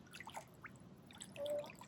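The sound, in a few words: small freshwater stream from waterfall, Hawaii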